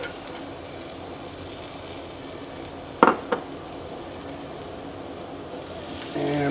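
Steady sizzling of onions frying in olive oil in a hot cast iron pan, with a couple of brief clinks of a utensil midway and stirring at the end.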